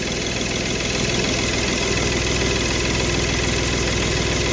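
A Hyundai i10 diesel engine idles with its turbo, giving a loud, steady, close rumble with a faint rhythmic knock and vibration throughout and no voices over it.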